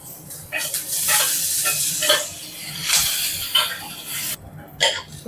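Curry leaves and coriander fry in a pan for a village-style country chicken curry, giving a continuous sizzle broken by repeated scraping stirs of a spoon, close and fairly loud, with no talking.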